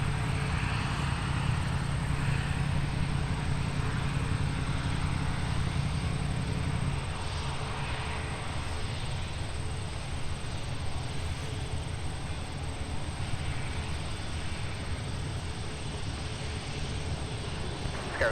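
Delta Airbus A330-200 on its takeoff roll at Minneapolis–Saint Paul airport, a steady distant jet engine roar that holds evenly throughout, its low rumble shifting partway through, with no talk.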